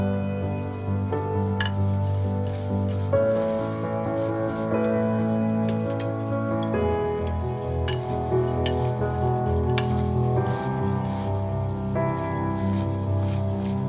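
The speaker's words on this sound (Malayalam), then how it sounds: "നന്നായി മിക്സ് ചെയ്തതിന് ശേഷം നമുക്കിത് സെർവ് ചെയ്യാം" A spoon stirs 100 grams of spicy fried mixture snack into a salad, giving close, steady clinks and scraping rustles against the bowl under a continuous musical background.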